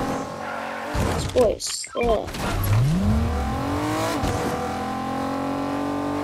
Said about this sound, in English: Yo, my Porsche. Yo, I roll out clean.